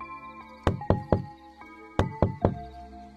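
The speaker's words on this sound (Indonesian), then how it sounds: "ada suara ketukan pelan dari lemari tua di pojok kamar." Soft knocks on an old wooden wardrobe in the corner of a bedroom at night, two groups of three evenly spaced raps separated by a short pause, close and clear in a quiet room.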